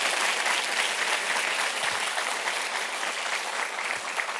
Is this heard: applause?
yes